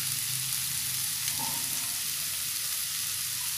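Seasoned filling of tofu skin and seaweed stir-fried in a hot pan, with a steady, close sizzle and frying hiss running through the whole stretch and no talking.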